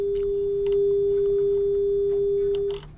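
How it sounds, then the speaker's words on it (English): Steady pure sine test tone from the left channel of an amplifier, loud and unwavering for nearly three seconds before cutting off abruptly, with faint clicks and room noise underneath. "You can probably hear a sine wave there"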